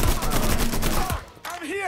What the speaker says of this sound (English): Start firing and don't stop!